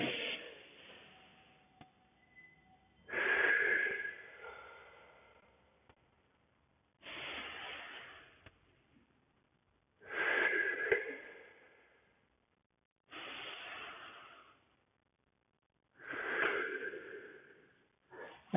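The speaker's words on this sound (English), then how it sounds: "Breathing in." Slow, audible breaths during a Pilates back and core exercise, about six airy in-and-out cycles, each lasting a second or two with quiet gaps between, close and soft.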